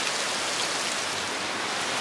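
Rain-soaked hut with water leaking and dripping everywhere inside, heard as a steady, dense hiss of rain and drips pattering on surfaces, close and continuous with no voices.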